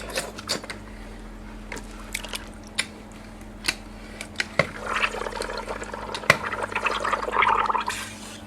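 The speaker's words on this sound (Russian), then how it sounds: "Пускаем камеру в воду." Air pumped into the inner tube of a Xiaomi 1S electric scooter wheel held under water, giving irregular bubbling, gurgling and squishing bursts that grow busier toward the end, close and moderately loud.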